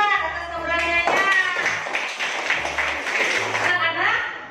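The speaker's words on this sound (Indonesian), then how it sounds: "beri tepuk tangan untuk Rani, Dwi, dan Lukman atas keberaniannya" Students in a classroom clap for classmates, a burst of hand claps rising in the middle and mixing with young voices and chatter before it tapers off.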